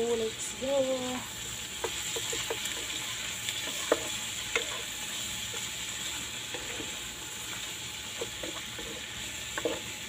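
Adobo kangkong with shrimp being stirred in a frying pan, a steady sizzle with scattered utensil scrapes and clicks against the pan, close and moderately loud throughout with no talking.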